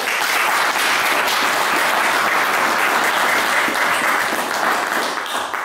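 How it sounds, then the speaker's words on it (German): Loud, sustained applause from an audience at a Fjord Line Cup event, dense continuous clapping of many hands that holds steady throughout before easing slightly at the end. "Einen dicken Applaus, denke ich, ist das wert."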